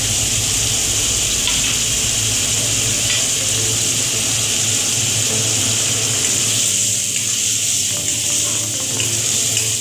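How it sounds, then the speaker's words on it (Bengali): Minced garlic frying in hot oil with a bay leaf in a pan for an egg curry, a steady loud sizzle that holds continuously and eases slightly toward the end. "তার মধ্যে দিয়ে দিচ্ছি রসুন কুচি।"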